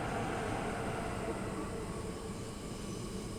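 A passenger train runs on the West Coast Main Line south in Train Sim World 5, giving a faint, steady rolling rumble with a soft airy hiss that stays even throughout.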